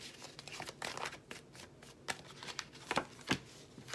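Tarot cards being shuffled for a reading give soft, quick riffling and slapping bursts at close range, faint and uneven, with no one speaking.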